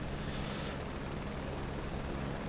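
Helicopter rotor and engine drone in Microsoft Flight Simulator 2024 during a career-mode search and rescue flight, a steady, dense, close broadband roar running unbroken throughout, with a high whine that drops away early on.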